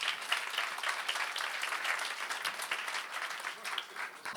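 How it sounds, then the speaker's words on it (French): A church congregation applauds during a Sunday service, a dense, continuous wash of many clapping hands that holds steady at moderate distance throughout. "Est-ce qu'on peut les applaudir, s'il vous plaît?"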